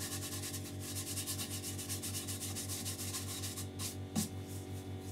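Finish being rubbed into a natural edge wooden bowl, quiet steady rhythmic rubbing strokes with a low hum underneath and a brief knock near the end.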